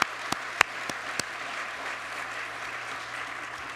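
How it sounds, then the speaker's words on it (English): An audience at a golf event applauds for golfer Brooke Henderson, a steady wash of clapping from a crowd with a few sharper close claps at the start, moderate and continuous. "We can applaud for Brooke"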